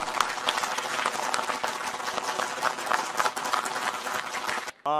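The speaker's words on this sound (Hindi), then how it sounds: "एक दफ़ा ज़ोरदार तालियां" Sustained enthusiastic applause from a crowd at an Urdu mushaira poetry event in Dubai, dense clapping filling the whole stretch before cutting off abruptly at the end.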